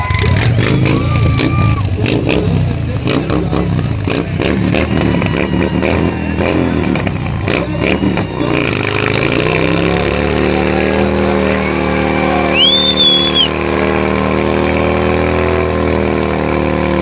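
Motorcycle engine revving hard and holding high during a tire burnout at a rat rally stunt show, a loud continuous roar with crowd noise and shouting mixed in.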